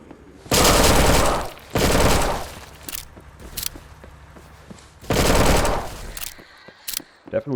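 Groza bullpup assault rifle firing in the game Those Who Remain: three loud, close bursts of rapid automatic fire, with a few single shots and clicks scattered between them.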